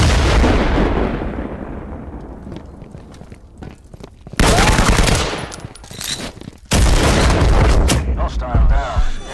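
Video game battle with loud explosions and heavy gunfire, close and booming, two big blasts bursting in after a stretch of rattling shots, with voices chattering underneath.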